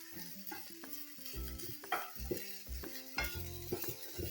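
Finely chopped vegetables, including capsicum and carrot, stir-fry and sizzle in a pan over high heat for street-style veg momos, with clinks and scrapes of stirring over background music.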